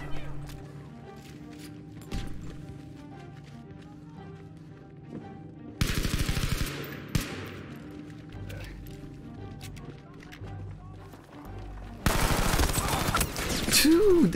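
Gunfire in the video game Battlefield V, mixed into a community game match: scattered single shots over a low rumble, then two loud bursts of rapid automatic fire, the last one close and sustained.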